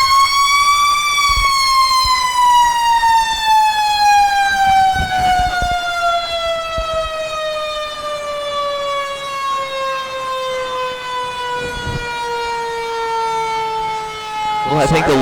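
A Little Sandy Fire Department fire truck in a Christmas parade sounds a loud wailing siren that rises, then slowly winds down in pitch over about fifteen seconds, with brief bursts of crowd noise and voices underneath.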